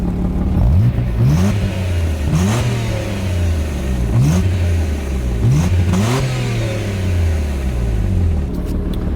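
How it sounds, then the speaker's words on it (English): A car's 2.5-liter V6 engine is revved repeatedly, with four or five rising blips that climb and fall back to a steady idle. The sound is close and loud, with no talking. "now let's compare it to his car, to the V6."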